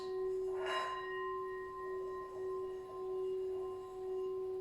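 A single struck gong tone with long sustained ringing overtones that hum and slowly pulse as it fades.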